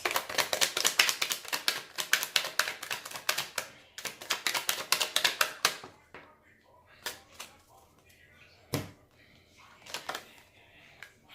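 Tarot cards shuffled in quick riffling bursts, then a few isolated taps and flicks as single cards are drawn and laid down, close and fairly quiet, with a voice speaking softly in places.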